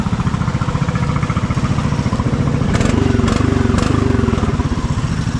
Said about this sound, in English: Got all the mowers running.